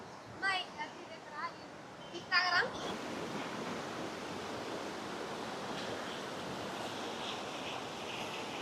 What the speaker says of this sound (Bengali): উপর থেকে জল নেমে আসছে এবং কতটা খরস্রোতার সঙ্গে নদী বয়ে চলেছে